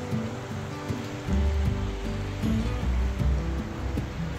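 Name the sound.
sea waves on the shore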